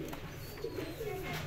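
Pigeons, including golden and Ferozpuri breeds kept in a loft, give soft low cooing calls in short repeated phrases over a constant background hum.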